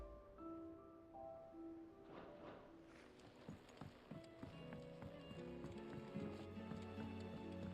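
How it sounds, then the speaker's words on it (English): Quick clip-clop of a horse's hooves running in Final Fantasy XVI, a rhythmic galloping patter over game music and ambience, fairly faint with a brief voice underneath. "Ambrosia's my horse."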